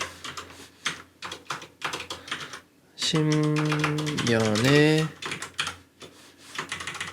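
Rapid clicking of keys on a computer keyboard, with a loud voice or hum swelling up in the middle and fading before the typing resumes.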